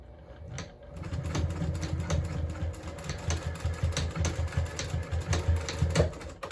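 A sewing machine stitches a crossbody bag close to its D-ring piece, starting after a brief pause and running in a fast, steady mechanical chatter, near and fairly quiet.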